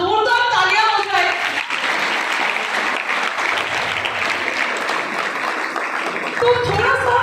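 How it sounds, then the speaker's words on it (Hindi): Loud, sustained applause from a school audience at a DAV Public School event in Radaur, Yamunanagar, rolls on for several seconds with some voices mixed into the clapping. "बहुत जोरदार तालियां हो जाए"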